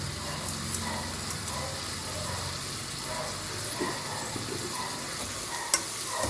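Tomato with salt sautéing in a pan gives a soft, steady sizzle, with a few scraping stirs and one sharp clink near the end, at moderate volume with no voices.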